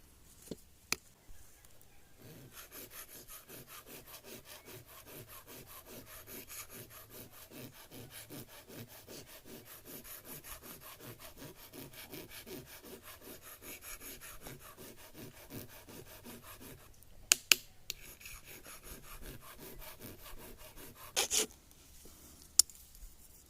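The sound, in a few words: metal file filing down a spoon edge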